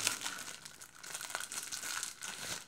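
Plastic packaging crinkling and crumpling close up as a robot vacuum's remote control is unwrapped, steady rustling with brief tearing bursts throughout.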